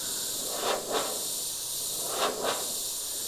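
An airbrush sprays paint in light, gradual coats onto an aluminium composite panel, a soft steady hiss with two pairs of brief stronger bursts as the trigger is pulled.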